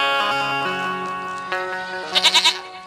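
A goat bleats in several wavering, nasal calls, ending in a quick quavering burst of four pulses, close and fairly clear against a quiet background.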